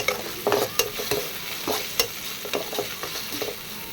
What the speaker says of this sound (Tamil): அந்த எண்ணெயிலே கொஞ்சம் வதக்கிட்டோம்னா அந்த பச்சை வாசனை போயிடும்